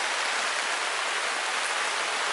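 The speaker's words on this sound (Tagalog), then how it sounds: "umuulan na" Steady rain pours on a construction site, a dense, even hiss of drops on surfaces filling the whole clip close and loud, with no voices.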